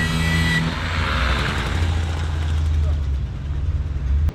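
A Peugeot 205 Rallye engine runs steadily just after starting, a loud, close, even idle with a low rumble throughout and a brief rev near the end.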